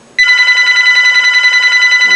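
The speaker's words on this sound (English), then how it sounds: "my phone is ringing" A telephone starts ringing abruptly, a sustained electronic ring with a steady warbling pulse that continues nearly two seconds, loud and close with no talk over it.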